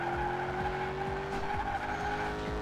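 In the Fast and Furious 5 racing game, a car drifts through Hong Kong-style streets, its engine droning steadily while tires squeal and skid in repeated bursts.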